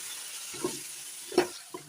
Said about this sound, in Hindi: फुल आँच से हमें चिकन को फ्राई करना है।